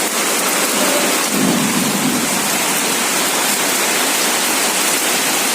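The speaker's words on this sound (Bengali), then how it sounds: "পরে মেঘ হয়ে গেল, তারপরে হাওয়া ছাড়লো, তারপরে এই বৃষ্টি আরম্ভ হয়েছে" Heavy rain pours in a dense, loud, unbroken roar during a thunderstorm, with a brief low rumble of thunder rising early on.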